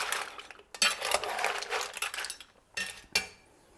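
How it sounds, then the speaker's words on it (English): Mussels steamed in white wine with parsley being stirred in a pot for moules marinière, giving soft clinking and scraping of shells and utensil against metal in short bursts with brief pauses, close and moderately loud, no talking. "And now we'll give it a last good mix."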